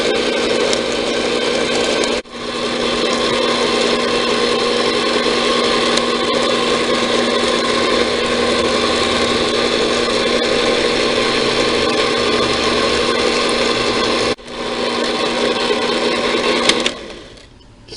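An electric mixer runs steadily for a long stretch, blending eggs into oatmeal raisin cookie dough, with a steady motor whine and two brief dips where it pauses before a final stop.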